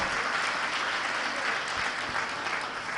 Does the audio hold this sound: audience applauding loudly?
yes